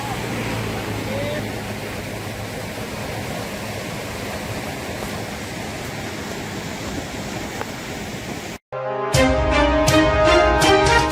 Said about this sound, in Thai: น้ำไหล สะดวกครับ เปิดทางน้ำเรียบร้อย